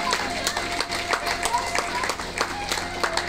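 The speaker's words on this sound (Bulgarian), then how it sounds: "Аплодисменти за майките на младоженците" Wedding guests give the mothers of the bride and groom a steady round of applause, with dense, continuous clapping under a voice speaking over the crowd.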